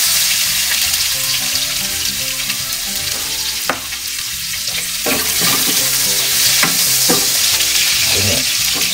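Garlic and onion sautéing in a pan for pinakbet, a loud continuous sizzle with a run of clattering stirs and scrapes in the second half, no voices.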